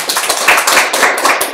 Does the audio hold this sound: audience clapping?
yes